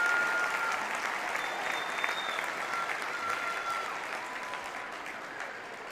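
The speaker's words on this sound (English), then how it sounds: "rousing warm applause from the home supporters" Warm, steady applause from home supporters in the stands at a Women's Super League football match between Manchester United and Reading, a dense, moderately distant crowd clapping that holds throughout and fades slightly toward the end.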